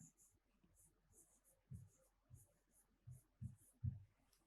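Hand writing an answer during a science lesson, a quiet scratching of pen or pencil with soft irregular strokes and taps, faint and close, with no talk.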